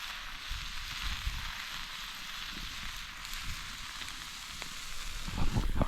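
Eggs frying in a poorly seasoned pan at a weekend cabin in the Catskill Mountains, a steady close sizzle with a few soft pops and scrapes growing busier near the end.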